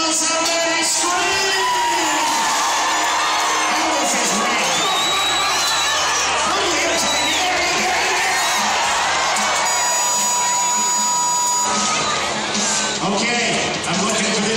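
A rodeo crowd at the Omak Stampede screams, whoops and cheers loudly and continuously for a bull ride, a dense wall of yelling voices close by.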